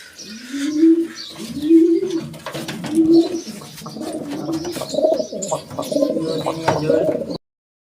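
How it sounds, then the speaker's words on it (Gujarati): Pigeons coo in a rhythmic series of soft, throaty calls close by among nesting pairs with eggs, repeating roughly every second alongside faint chirps, with no talk. "આ ઈંડા છે તે આ જોડના બીજા કબૂતર બધા બેઠા છે"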